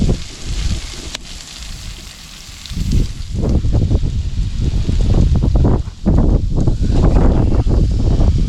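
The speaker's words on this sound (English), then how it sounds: "It's so windy that even the grill is having a hard time." Strong gusting wind at a campsite in Moab, Utah buffets the microphone with loud, rough rumbling bursts that rise and fall throughout.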